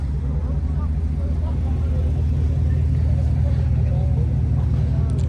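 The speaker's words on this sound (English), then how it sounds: "The Mustang will be racing this Corvette." A Corvette C7 and a supercharged Mustang 5.0 idle side by side before a street race, a steady deep engine rumble that fills the whole stretch at constant loudness, with faint voices underneath.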